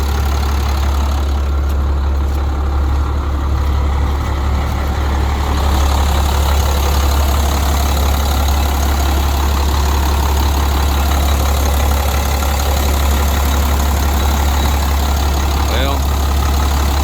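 A truck engine idles steadily and close by, a loud, constant low rumble running the whole time, while a person talks over it partway through.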